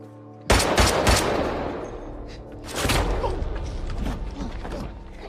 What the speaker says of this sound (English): A bullet slams into Ray's upper chest.